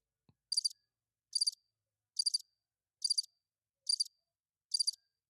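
Crickets chirp in an evenly spaced rhythm, six short trilled bursts about a second apart, clear and isolated against silence.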